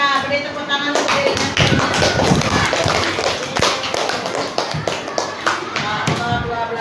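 A classroom of pupils clapping for themselves, a dense burst of hand claps close by with chatter mixed in, steady through the whole stretch and then thinning toward the end.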